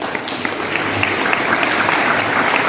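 Students and guests clap for competition prize winners at a school prize distribution ceremony, a loud, steady burst of crowd applause with scattered sharper claps standing out.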